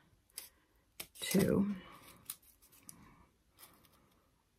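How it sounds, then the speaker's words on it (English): Scissors cut through glittered paper for a flower center, with close crisp snips and one longer rasping cut, under quiet talk. "I'll just keep cutting to finish. This glitter's probably gonna be hard on these scissors"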